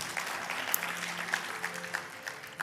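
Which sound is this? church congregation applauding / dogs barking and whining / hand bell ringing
church congregation applauding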